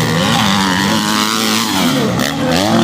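250cc motocross motorcycles race in an MX3 category event in Santa Cruz do Capibaribe, Pernambuco, engines revving loud and close with rising and falling pitch as the bikes accelerate past.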